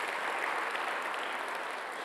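A church congregation claps together during a Sunday worship service, a steady, even wash of many hands that holds at a constant level throughout with no voices standing out.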